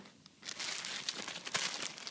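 A plastic bag from a boxed NES game console crinkles as it is handled, a soft close rustle with several sharper crackles.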